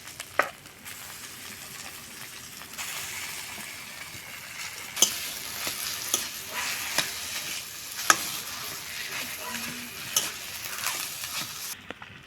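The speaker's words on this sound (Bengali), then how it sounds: "কড়ি পাতা দেওয়ার পরে বেশি ভাজবো না, আলু ঢেলে দিব এবার।" Potatoes poured into hot oil with curry leaves for aloo paratha filling crackle into a broad, steady sizzle, punctuated by sharp scraping stirs of a spoon against the pan, close and without talk.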